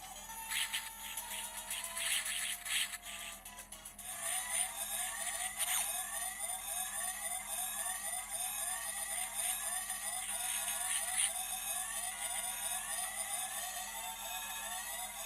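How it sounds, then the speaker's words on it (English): A looping electronic alarm in a SNES game, played through an emulator on a handheld, wails in steady rising sweeps, harsh and crunchy, over a dense synthetic background hum. "The alarm in the background still sounds really crunched though."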